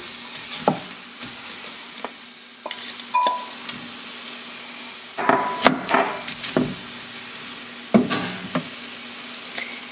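White cabbage goes into a hot frying pan for tteokbokki, a steady low sizzle with scattered clacks and scrapes of stirring utensils against the pan, close and moderately loud.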